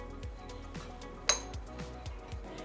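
A spoon stirs green chilli, coriander and amchur powder in a bowl, giving a quiet series of light metallic clinks and scrapes with one sharper knock in the middle.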